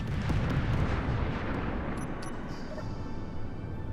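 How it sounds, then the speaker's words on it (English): A Nova cannon fires in a video game, a heavy booming blast that rolls out into a long, fading rumble, loud at first and then settling lower. "Change the noise on the Nova cannon."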